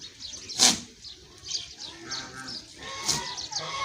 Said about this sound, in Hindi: ये गबन बकरी है